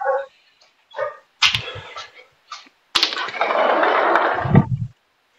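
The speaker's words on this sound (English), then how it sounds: "My neighbor's dogs are just, they're being rude, and I don't know what they're barking." Several dogs belonging to a neighbor bark in short separate bursts, then a longer stretch of louder, overlapping barking and yelping fairly close by, ending in a low growl-like rumble before falling silent.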